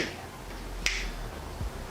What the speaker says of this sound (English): I just like the part where I snap my fingers.